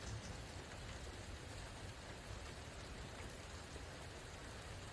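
Steady rain falls outdoors at night in the woods, a continuous even hiss of drops on surfaces with no breaks, moderately quiet and unaccompanied by voices.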